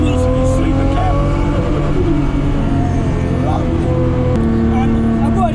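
Datsun 240Z with a swapped 645 WHP RB26 engine driven hard into corners, its loud straining engine tone rising and shifting continuously with faint tire squeal, while someone talks over it.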